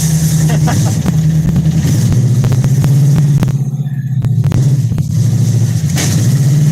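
A car engine drones loud and steady as it drives laps inside a garage, a constant rumbling roar that surges slightly, with occasional voices and sharp knocks over it.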